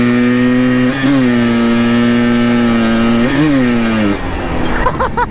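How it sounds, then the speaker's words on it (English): A vehicle engine revving with its clutch slipping, a loud steady drone with whining harmonics that briefly rise and dip twice, then break into rougher, uneven sputtering near the end. "I think I hear some clutch slipping going on."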